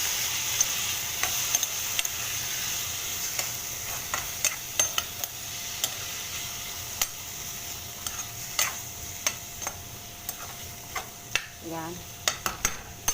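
Sliced ampalaya (bitter gourd) stir-fried in a pan after aromatics, a soft continuous sizzle with frequent sharp clicks and scrapes of a utensil against the pan, close by.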